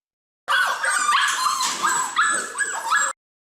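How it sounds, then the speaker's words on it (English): A dog barks and yips in a rapid, excited run of overlapping calls, loud and close for about three seconds with no other sounds. "dog"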